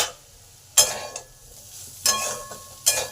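Grated ginger being stir-fried with partly cooked potatoes in a pan, three distinct scraping stirs over a soft background sizzle, close and without talk.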